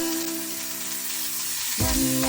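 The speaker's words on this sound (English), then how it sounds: "Hot a pan with high fire. Put the steak." Ribeye steak seasoned with olive oil, salt and black pepper hits a pan on high heat, a faint hiss bursting into a louder, close sizzle for the final moments.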